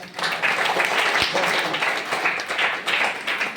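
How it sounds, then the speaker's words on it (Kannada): A crowd of students and parents at a residential school gathering clapping to welcome a revered swamiji, a fairly dense, steady round of applause heard in a reverberant hall. "ಪೂಜ್ಯರಿಗೂ ಕೂಡ ಹಾರ್ದಿಕವಾದಂಥ ಸುಸ್ವಾಗತವನ್ನು ಚಪ್ಪಾಳೆ ತಟ್ಟದ"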